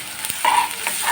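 Ginger paste and spices are stirred and fried in a pan for an egg bhuna curry, giving a steady close sizzle with brief scraping stir sounds on top.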